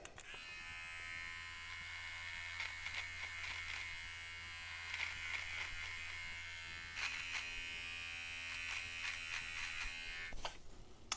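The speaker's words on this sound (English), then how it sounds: "All you need is a small trimmer for zero." A small electric beard trimmer buzzes steadily and close while cutting a beard, the high whine shifting slightly as it moves through the hair, with no talking.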